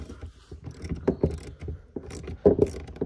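A bolt is turned back into its hole on a bass boat fuel tank, close, low grinding and squeaking thread turns coming in short uneven bursts.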